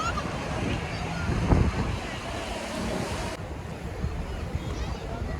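Arabian Sea waves at Nariman Point wash steadily in a broad, continuous surf roar, with wind buffeting the microphone throughout.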